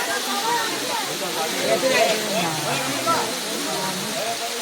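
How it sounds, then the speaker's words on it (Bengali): A small waterfall at Himchari hill in Cox's Bazar gives a steady broadband rush of falling water, continuous and moderately close, with a person talking over it throughout. "ছোট্ট একটা ঝর্ণা কিন্তু সুন্দর"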